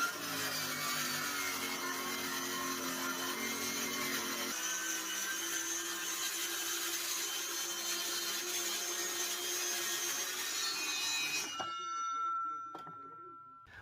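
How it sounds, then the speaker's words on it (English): A circular saw fitted with a rip guide runs a long, steady rip cut along a wooden board, whining loudly and continuously for about eleven seconds before the blade spins down and stops, leaving near silence. "What I actually use is a circular saw with a rip guide."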